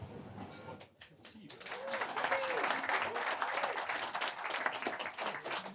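Warm round of applause from an audience at a nature talk event, scattered claps swelling into sustained dense clapping, with a few voices heard over it.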